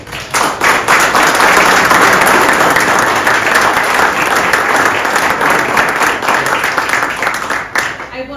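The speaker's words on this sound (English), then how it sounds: "Let's give her 2 claps." Loud sustained applause from an audience at a 2023 retiree celebration honoring a retiring colleague named Stacy, a dense, even roar of many hands clapping that fades near the end, with faint voices beneath.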